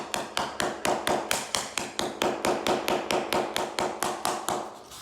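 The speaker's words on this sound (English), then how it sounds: "these are pretty tough, so you can hit them with a hammer" Steady, rhythmic hammer taps knock flooring planks into place during a garage conversion, about four sharp blows per second, close and loud, with no talking.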